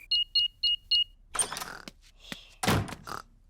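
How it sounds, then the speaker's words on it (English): A house alarm in a Peppa Pig cartoon gives four quick, evenly spaced electronic beeps as it is switched off, followed by soft clunks and knocks, something like a door and mechanism moving. "I'll just switch the alarm off."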